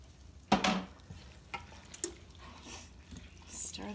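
A spoon stirs beans in a pan for a simple taco salad, with a few scattered scrapes and soft wet clicks, quiet and intermittent, under a voice.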